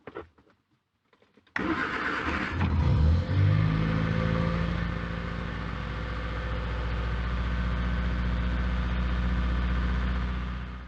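A 1966 Triumph Spitfire 4 Mk II cranks after a few faint clicks, then catches and roars into life with a rising rev, and settles into a steady, loud, close idle with a deep, even hum.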